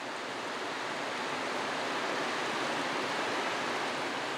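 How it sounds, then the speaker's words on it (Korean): A two-tier waterfall in Juwangsan, South Korea, roars steadily, a dense, continuous rush of falling water with no pauses or other sounds. "이곳은 주황산에서 가장 웅장한 경관을 갖고 있는 폭포다."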